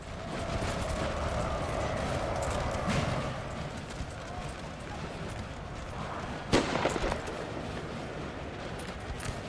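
Musket volleys from firing lines of Spanish, British and French troops in a large Napoleon Total War battle, a dense continuous rumble of massed gunfire with occasional sharper cracks, including one prominent near burst.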